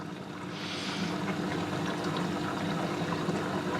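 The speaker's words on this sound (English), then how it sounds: "I mean, this is still filling up with water." Water rushes steadily into the empty drum of a Samsung front-load washing machine with a blocked drain hose, a continuous close hiss and gurgle with a low pump-like hum underneath.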